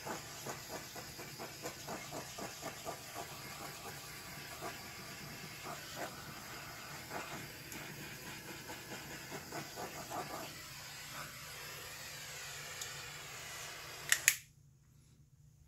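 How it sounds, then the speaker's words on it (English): A blowtorch hisses steadily while torching a silicone flip cup, a continuous close roar with faint ticking, cutting off abruptly near the end. "We're going to torch it a little bit, see what actually comes up in here."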